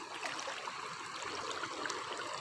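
Strong flood water current at high tide rushes into a neighbourhood of houses, producing a steady broad rushing and gurgling wash with no pauses.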